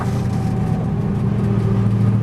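A V8 race car engine running on track at steady part throttle, a continuous close droning hum with a faint whine above it, heard alone and unbroken.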